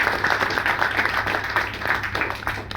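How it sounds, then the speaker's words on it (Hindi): Audience applause for a doctor at a Hindi health-awareness talk: dense, steady clapping from a crowd that continues without a break and is moderately loud. "एक बार जोरदार तालियां होना चाहिए मेरे"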